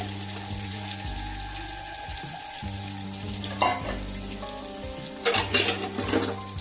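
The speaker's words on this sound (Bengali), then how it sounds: "বাদামগুলো আমি হালকা করে একটু ভেজে নিয়েছি" Peeled nuts fry gently in a pan, giving a soft sizzle under a steady low hum, with a few clattering stirs and scrapes rising toward the end.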